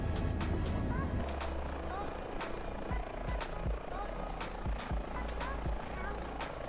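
A helicopter in the Microsoft Flight Simulator video game gives off a continuous rotor and engine drone, with sharp clicks scattered across it and voices heard intermittently over the steady hum.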